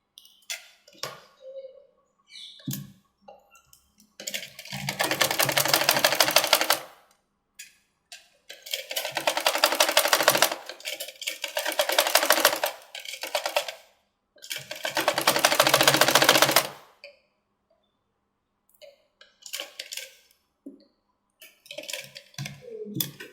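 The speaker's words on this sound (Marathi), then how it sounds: "आणि इथून शिवायचं आता." A sewing machine stitches puff sleeves in four loud, close bursts of rapid mechanical whirring of a few seconds each. Quiet clicks and handling noises fill the gaps between runs.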